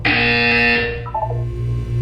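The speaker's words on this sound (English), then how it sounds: "You will hear a buzzer." A loud buzzer sounds in Portal 2, a sustained harsh electronic tone holding steady for most of two seconds before shifting to a lower, softer hum.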